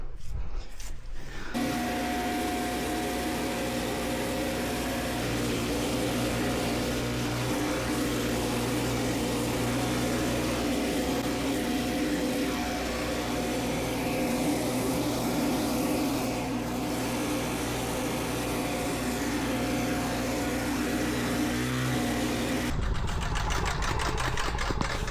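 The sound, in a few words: Trac Vac 880 leaf vacuum sucking up pile of leaves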